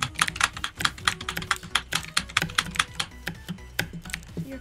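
Rapid, uneven clacking of computer keyboard arrow keys, close and fairly loud, with irregular bursts of keystrokes throughout and no voices.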